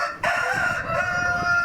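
Rooster crowing loudly and close among laying hens on a poultry farm, one sustained crow after a short burst of clucking, no talk.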